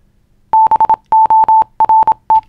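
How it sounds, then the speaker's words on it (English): Clean, steady electronic beeps at one pitch, sounding in short dot-and-dash bursts grouped into four runs with brief pauses, close and loud with no other sound. "exactly where I got that original Morse code sound from"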